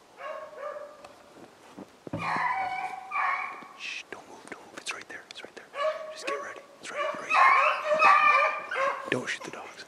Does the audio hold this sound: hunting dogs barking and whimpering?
yes